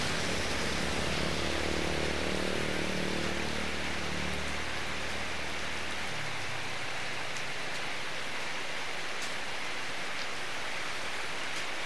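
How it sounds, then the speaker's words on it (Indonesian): Heavy rain pours down in a loud, unbroken hiss, while a low rumble underneath fades away over the first six seconds, leaving only the dense steady wash of falling water. "Kayaknya hujannya merata ini teman-teman."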